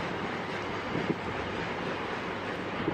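A long freight train on India's dedicated freight corridor rolls past in a steady, continuous rumble with faint wheel clatter, no voices over it.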